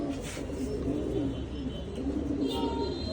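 A male Red Lahori fancy pigeon cooing close by, a low, rolling, continuous coo repeated steadily under a faint background hum, with no talk.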